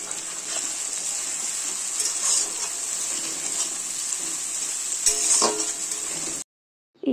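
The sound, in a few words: fish oil frying with ginger and garlic in a pan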